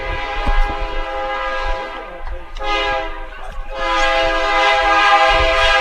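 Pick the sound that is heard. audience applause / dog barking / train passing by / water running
train passing by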